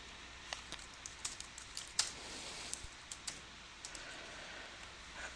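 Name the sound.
typing the ls command on a computer keyboard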